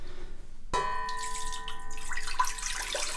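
Water pours from a litre measure into a container for a chickpea flour recipe, starting with a sudden splash and ringing tones, then a steady trickling stream with small splashes continuing close by.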